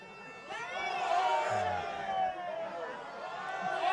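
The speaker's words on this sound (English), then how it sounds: "As we hear the ole ole in the crowd" A football stadium crowd at a Chivas match chants and sings after a goal, a loud melodic mass of voices with rising and falling phrases, continuous throughout with a brief close voice underneath.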